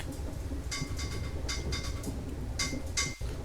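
A Class 444 train on the Portsmouth Direct Line pulls in to stop at Milford, with a steady loud rumble under repeated metallic clinks and clatters from the carriage.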